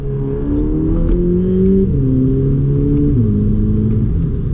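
Close, loud engine note of a VW Polo GTI hot hatch with a turbo, driven at night in manual mode after a downshift. The engine tone shifts pitch in distinct steps over a continuous rumble.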